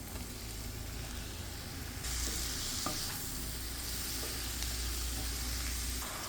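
Mushrooms tossed with coriander, chili, pepper and masala powders sizzle and fry in a pan, a soft continuous crackle that grows louder as they are stirred, with occasional scraping and no talk.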